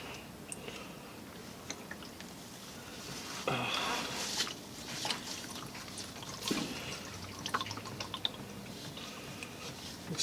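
Engine oil drains from a 2010-2015 Chevrolet Camaro SS during an oil change, a steady close liquid pour broken by a few louder splashes and drips.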